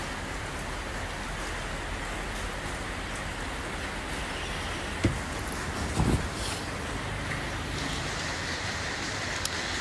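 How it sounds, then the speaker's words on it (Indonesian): Steady rain falls throughout, a dense even hiss with no voices and a couple of brief louder knocks partway through. "Iya, hujan."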